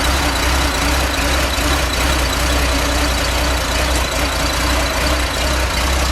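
A 1973 Porsche 911 Carrera RS Touring with its 2.7 engine idles close by, a steady, loud, even rumble with a faint mechanical clatter that holds constant throughout.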